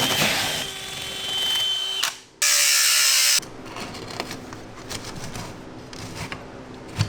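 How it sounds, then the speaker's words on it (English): A power drill bores an angled, slightly downward hole through an interior wall for a mini-split heat pump drain line. It runs loud and close with a steady whine that cuts off sharply, then scraping and handling noises follow. "And go ahead and drill our hole"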